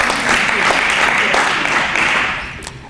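A crowd claps in sustained, loud applause that gradually thins and fades toward the end, with a voice faintly audible underneath.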